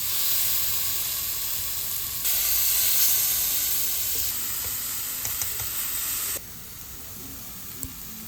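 Onion chunks and bulgogi beef being mixed in a hot pan, a continuous loud sizzle and hiss with soft stirring scrapes, which drops sharply in level near the end.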